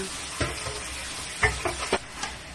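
Chicken cooking in a pot for binakol, a low simmering sizzle broken by a few clanks and stirring knocks from a utensil.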